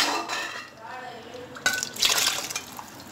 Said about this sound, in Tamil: பருப்பு ஊத்தியாச்சு